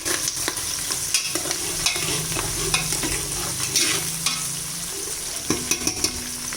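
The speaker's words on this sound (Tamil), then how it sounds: "அப்படியே கொஞ்சோண்டு கருவேப்பிலையும் போட்டுருங்க." Green chilies and curry leaves fry in oil in a pan for chicken biryani, giving a steady close sizzle with frequent crackles and stirring clinks throughout.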